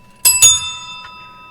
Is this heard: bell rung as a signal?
yes